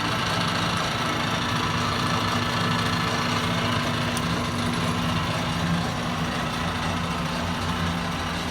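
An Atlas TH54 metal lathe runs on a 110-volt motor with the carriage power feed engaged, a steady loud mechanical hum and whir with a faint rhythmic rattle, unbroken throughout and without speech.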